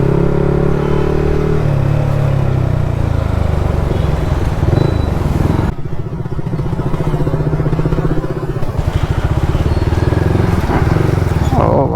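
A Yamaha MT-15 motorcycle rides through traffic, its engine a loud, constant rumble mixed with heavy wind buffeting and road noise.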